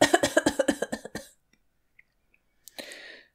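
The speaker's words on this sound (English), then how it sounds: "How long have you had that cough?" A rapid burst of about ten harsh coughs in quick succession, close and loud, then near silence with a faint scuffle and a noisy breath at the end.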